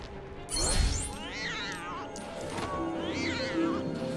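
Several drawn-out meows from a cat in the Lego Harry Potter video game, loud and near, rising and falling in pitch.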